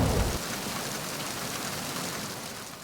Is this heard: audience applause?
no